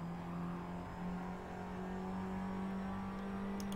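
A race car in Assetto Corsa holds a steady droning engine note, loud and continuous, with no speech over it.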